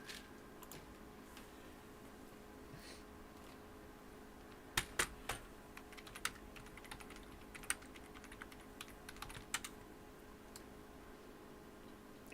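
Computer keyboard keys clack in an irregular run of close, sharp taps over quiet room hum, with a few louder strikes in the middle and no talking.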